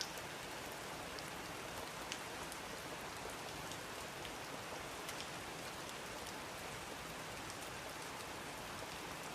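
Steady rain falling at night, a dense, even hiss with scattered drop ticks throughout, close and continuous with no voices.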